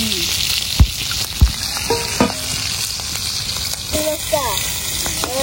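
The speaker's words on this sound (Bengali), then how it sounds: "ইলিশ মাছের তেল দিয়ে তেলাপিয়া মাছ বাজি" Tilapia fish frying in hilsa fish oil, a steady broadband sizzle and crackle running throughout with occasional stirring knocks and clinks, while faint voices and bird-like chirps sit in the background.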